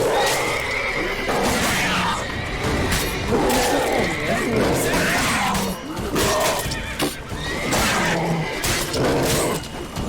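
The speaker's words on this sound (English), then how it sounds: "Whoa there, Roach. Back, you beast" A horse in The Witcher 3 neighs and whinnies loudly and repeatedly, with hoof clatter and crashing game sounds around it, and brief voices mixed in.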